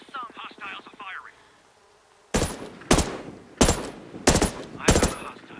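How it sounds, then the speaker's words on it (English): Video game enemy gunfire crackles in five sharp, loud bursts spaced about half a second apart, following a brief rapid rattling sound and a quiet pause. "Hostiles are firing."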